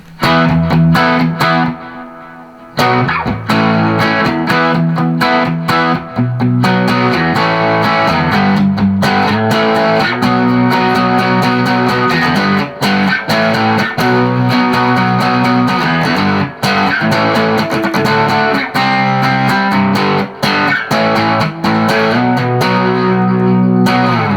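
An electric guitar runs through a Pure Sky pedal with reverb and delay, playing loud, sustained chords and melodic lines with a gritty, effected tone and trailing echoes, continuous for the whole stretch without speech.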